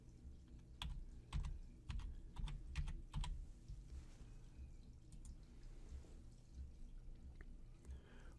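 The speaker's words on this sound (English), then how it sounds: "By typing the word flavor in the description field and clicking on OK" Keys clatter on a computer keyboard in a quick burst of crisp taps, then lighter scattered clicks, close and alone.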